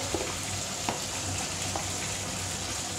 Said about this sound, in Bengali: ক্যাপসিকামগুলো ভেজে আমি তুলে রেখে দেবো।